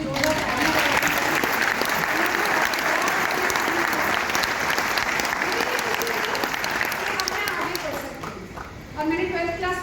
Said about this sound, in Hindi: मेरे प्रिंसिपल के लिए जोरदार तालियां बजाती हूँ